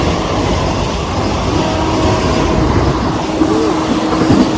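A train passes through a railway station with a loud, steady rumble and faint wheel squeal, close and continuous, with no talking.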